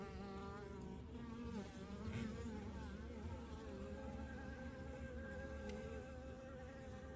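Bees at an open 20-frame Layens horizontal hive during an inspection, a continuous close buzzing hum with shifting wingbeat tones and no voices.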